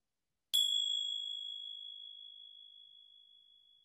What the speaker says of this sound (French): On va commencer cette pratique aussi avec notre petite clochette.